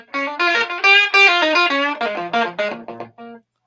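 Fuzz-distorted electric guitar playing a short melodic phrase of sustained, harmonically rich notes heard through a microphone, fairly loud and alone, ending after a few seconds.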